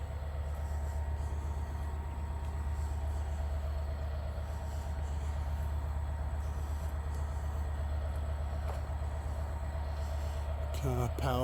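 GBRf class 66 diesel locomotive 66724 'Drax Power Station' powering up as it departs at the head of freight train 4O19: a steady, loud low engine drone throughout, rising near the end, with voices talking over it.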